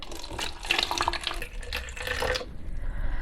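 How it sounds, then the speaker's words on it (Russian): Prepared Vitalizer solution pours into an orchid pot, a steady splashing trickle of liquid running for about two and a half seconds before stopping, close and fairly clear with no talk. "И наливаю сюда приготовленный Vitalizer."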